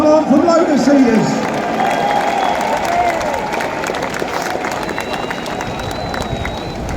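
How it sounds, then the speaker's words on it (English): Crowd at a Tommy Robinson freedom rally clapping and cheering outdoors, a dense roar of applause with shouts and a whistle rising at the start, holding steadily loud before gradually easing. "Give yourselves a round of applause, this is incredible."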